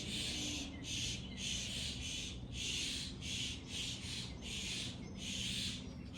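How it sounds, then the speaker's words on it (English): Birds squawk at sunset, a rapid series of harsh, rhythmic calls in bursts with brief gaps, moderately distant and steady over several seconds. "I'm gonna let the birds talk first."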